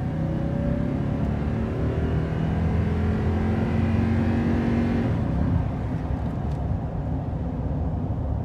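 A 2015 Toyota Tundra SR5 pickup drives uphill, its engine droning steadily with a rising tone that eases off partway through, heard from inside the cab with no talking.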